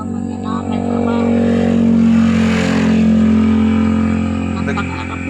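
A motorcycle engine running loud and close at night, a steady rumbling drone that swells slightly mid-way and eases off, with the exhaust note dominating throughout.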